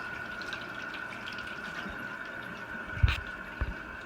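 Tap water runs in a thin, steady stream from a faucet as hands are wetted for washing, faint and continuous, with a couple of brief splashy knocks near the end.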